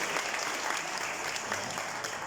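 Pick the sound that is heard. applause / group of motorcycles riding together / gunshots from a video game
applause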